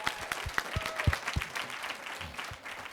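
Sparse clapping from an audience at a conference panel discussion in York, Pennsylvania, scattered individual claps of moderate level rather than a dense ovation, with no talk over it.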